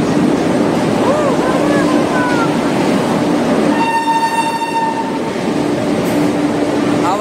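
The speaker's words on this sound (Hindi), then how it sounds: "ट्रेन आ रहा है, तभी वो गलत था, ये 3 पे आ रही है" The Upasana Express rolls into a busy Indian station platform with a steady heavy rumble, while a high whistle-like toot and a ringing tone cut through midway. People chatter nearby throughout.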